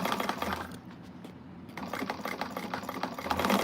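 A sewing machine stitches a bag in a steady whirring run, briefly pausing midway before resuming with a rhythmic mechanical patter, fairly close and moderately loud.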